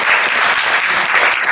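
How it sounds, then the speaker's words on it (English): Dense, steady applause from a sizeable conference audience at Aston Villa FC in Birmingham, loud and continuous clapping throughout with no pauses. "Can we have another round of applause,"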